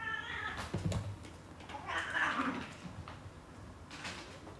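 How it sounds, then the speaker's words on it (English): A cat meows excitedly, a few drawn-out cries rising and falling against a steady background hum, with a voice talking nearby. "the cat's going crazy."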